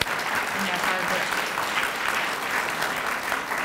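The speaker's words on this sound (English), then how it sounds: "So I'd just like a round of applause, please, for all of our committee chairs and their hard work." At an association's annual business meeting, the audience applauds its committee chairs with a dense, continuous round of clapping lasting several seconds.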